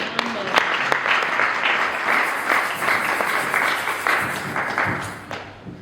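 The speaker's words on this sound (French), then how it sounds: "Acclamons la parole du Seigneur." A church congregation applauds after a scripture reading at a sermon, a dense, sustained round of clapping from many hands lasting several seconds before tapering off, with some voices mixed in.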